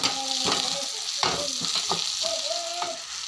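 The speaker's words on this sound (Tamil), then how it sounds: "இப்போ இது கூட தக்காளியை கருவேப்பிலையை போட்டு கிளறி விட்டுறலாம்" Tomato and curry leaves stirred in a hot pan for a tamarind curry, a steady sizzle of frying with scraping spoon strokes at intervals, close and continuous throughout.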